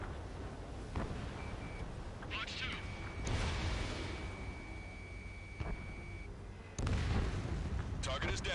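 In Ace Combat 7, a fighter jet fires missiles, sounding as heavy booming launches and whooshes over a constant roaring engine drone, with a steady tone and radio voices talking in between.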